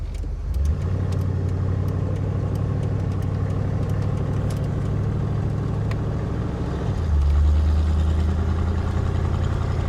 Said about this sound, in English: I do like the exhaust on the side though. Yeah. I think that just gives it that nice sort of sound.